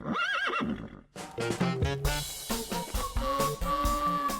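A horse whinnies loudly and close by in a long, wavering call, with more snorting and neighing after it and a hint of hoof clatter.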